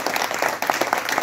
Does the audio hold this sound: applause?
yes